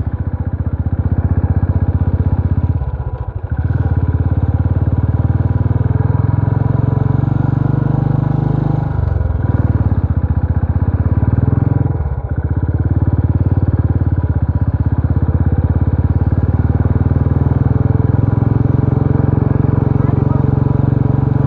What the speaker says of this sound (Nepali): बाइकले पादे पादै छ हजुर